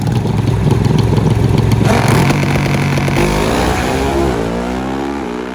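Pro Stock drag racing motorcycles, a V-twin against a four-cylinder Suzuki, roar loud and close at full throttle, the engines screaming steadily before pitch sweeps shift as they pass and fade.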